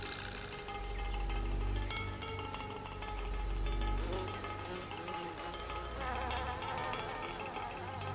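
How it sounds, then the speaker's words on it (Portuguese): A robber fly flies in a garden, a faint buzzing hum rising and falling as it moves about, over a background of insect chirps and hiss, with no talking. "Você está vendo uma mosca salteadora."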